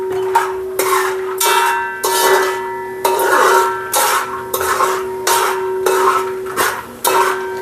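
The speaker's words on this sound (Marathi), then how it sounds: "आणि आता मी बदाम तळून घेतो याच्यामध्ये।" Almonds fry in cow ghee in a pan while a spatula scrapes and stirs in regular strokes, about once a second, over a faint sizzle, close and fairly loud with no voices.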